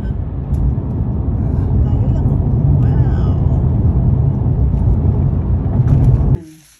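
Afternoon road traffic heard from inside or beside a vehicle, a loud continuous low rumble of engines and tires that holds steady and then cuts off abruptly near the end.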